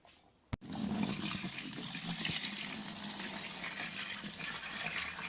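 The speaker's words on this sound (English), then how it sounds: "So I'm going to tip water in and see if they fill up." Water tipped into Autopot self-watering plant pots for tomato plants: a sharp knock, then a steady, full gushing pour that runs continuously, fairly close.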